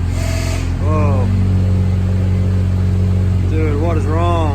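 A Honda DA9 car engine runs with steady idle hum, its wheel on a block of wood after a transmission synchro replacement, while people talk over it throughout.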